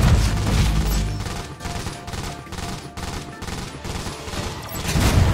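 Squad gunfire in the video game Iron Marines: a loud, continuous fusillade of rapid shots and bursts rattling on for several seconds, with thumping low impacts throughout and no speech.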